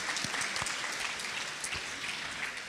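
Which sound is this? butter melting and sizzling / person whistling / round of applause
round of applause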